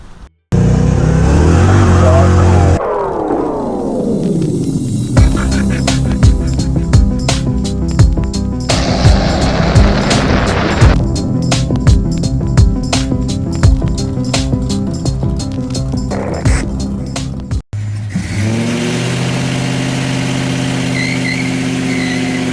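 A car engine runs loud and close, starting with a steady idle, then revving and pulling away as it drives with rising and falling gear tones, settling into a steady cruise near the end.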